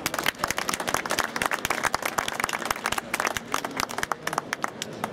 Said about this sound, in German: Also nochmal einen riesen Applaus für dieses Team